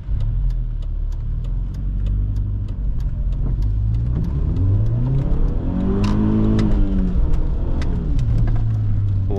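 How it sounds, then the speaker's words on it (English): A BMW 318ti E46 with the N42B20 four-cylinder engine revs up and down while driving, the engine note climbing and falling through several sweeps, loud and close with no talking. "you have a nice revving engine"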